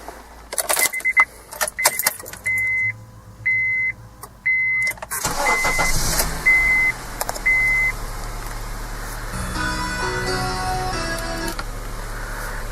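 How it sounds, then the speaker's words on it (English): Keys jingle and chime beeps sound inside a Honda CR-V before its engine cranks and settles into a steady idle after a spark plug change, with louder broadband noise in the second half. "so let's go and start up the car."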